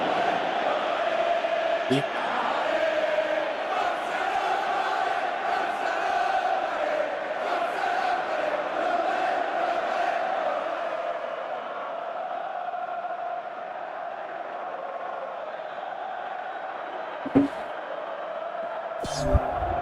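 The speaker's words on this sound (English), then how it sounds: "Crowd appreciates good football all round there." A stadium crowd in PES 2017 keeps up a broad, steady roar and chanting throughout, easing slightly toward the end, with a couple of sharp knocks near the close.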